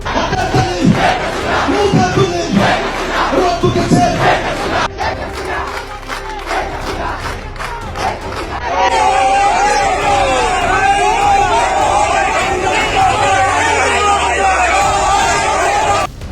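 Awami League activists march in a street procession in Dhaka, a dense crowd chanting and shouting loudly in unison, with a brief lull midway before the massed voices surge back, steady and close.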